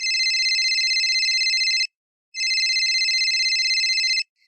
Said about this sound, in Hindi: घंटी बज रही है लेकिन फोन रिसीव नहीं कर रहे हैं